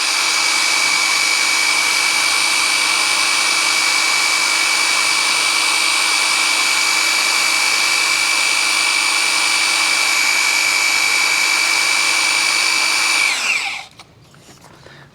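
A drill spins an oil pump priming shaft on a Ford 351W V8 engine, a steady loud whine holding constant for about thirteen seconds before winding down abruptly and stopping.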